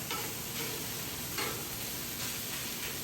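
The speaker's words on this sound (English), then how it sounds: "We're going to go ahead and mix the 1 jar in with the beef again" Ground beef, a jar of Classico four-cheese spaghetti sauce and noodles are stirred on a hot Blackstone griddle, a steady low sizzle broken by soft scraping strokes of the spatula, close and quiet with no talk.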